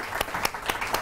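Studio audience applause at a live Pakistani iftar television broadcast, a brief burst of clapping from the crowd with rhythmic swells, moderately loud and with no one speaking over it.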